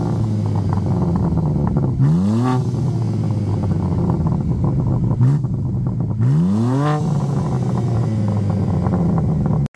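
A BMW M4 Competition fitted with an Akrapovic exhaust idles loud and close, then gets two sharp throttle blips that swoop up and fall back to a rumbling idle.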